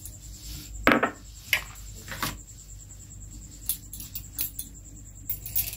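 Ground roasted spice being mixed into mango pickle in a bowl, with a few sharp utensil clinks and soft scraping scattered over a quiet background.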